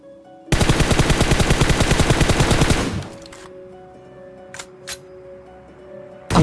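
Rapid automatic gunfire in the mobile battle royale game PUBG Mobile, a loud sustained burst of about two and a half seconds, followed by quieter game ambience with a couple of distant sharp shots.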